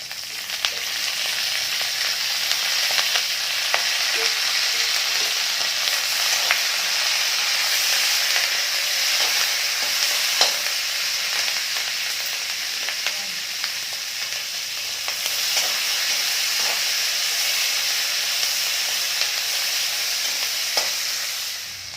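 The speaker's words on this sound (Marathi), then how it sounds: "आपल्या मिरच्या आणि लसूण भाजलेला आहे म्हणजे तळून निघायला थोडंसं थोडं सोनेरी कलर येईपर्यंत आपल्याला तळून घ्यायचं आहे" Green chillies and garlic fry in a little oil for a Marathi coconut chilli kharda, a steady, dense sizzle with occasional stirring clicks running evenly throughout, close and fairly loud, with no talking.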